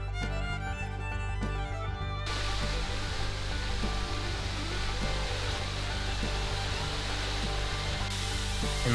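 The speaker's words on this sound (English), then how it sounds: "we have arrived at Takataki Waterfall, which means tall waterfall in Japanese" Steady, loud roar of Takataki Waterfall, a tall falls in the Kisa-dani Valley near Yoshino, Nara, Japan, a dense continuous rush of falling water heard up close for the whole stretch.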